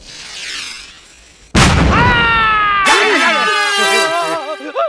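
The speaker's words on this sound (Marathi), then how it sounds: "बॉम्ब स्फोट." Bomb explosion sound effect in a comedy movie: after quieter sound, a sudden loud boom bursts in, followed by a sustained roaring, ringing rumble that carries on to the end.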